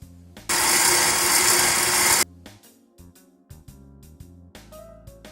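An electric mixer beats flour into rich brioche dough, a loud, steady whir running alone for about two seconds before cutting off, followed by quieter clinks and scraping in the kitchen.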